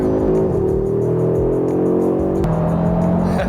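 A modified Audi RS3 with a Milltek exhaust accelerates hard, its engine note loud and close as it rises in pitch through the revs, with a brief dip where a gear changes, continuous for several seconds with no talking.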